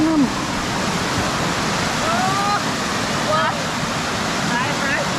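A waterfall roars in a steady, loud broadband rush from start to end, and brief voices and whistle-like calls rise faintly above it.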